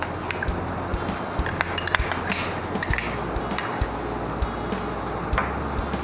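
Tomato ketchup being mixed into mayonnaise in a bowl, a spoon clinking and scraping against the bowl in quick, irregular taps over a steady background hum.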